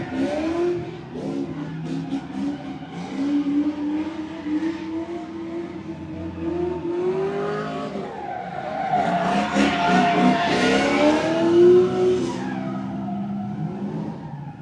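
A small Subaru BRZ or Toyota FRS drifts at a live event in Mexico, engine revving through sweeping pitch changes and tires squealing in long skids, loud and continuous with faint voices in the background.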